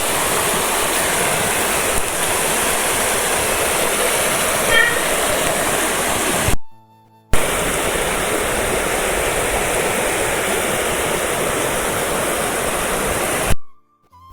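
A small stream of the Marin River rushes under the Jakhani bridge, a steady broadband roar of flowing water close by that cuts out twice in brief gaps.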